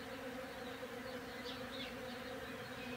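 Bees buzz steadily and close by, a continuous low hum with a few individual insects passing nearer the microphone, and no voices.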